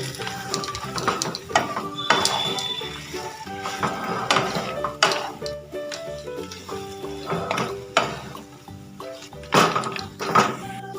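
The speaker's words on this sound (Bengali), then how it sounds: "এবার এতে দিয়ে দেবো মেখে রাখা আলুটা আলুটাকে দিয়ে মশলার সাথে কিন্তু খুব ভালো করে মিশিয়ে নেবো" Spices and mashed potato being worked together in a pan for a crunchy aloo chop filling, with a steady run of clacking spoon knocks and scrapes at close range, no talking.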